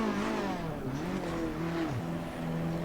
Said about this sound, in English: So I can now use my ignition, fire up my engine.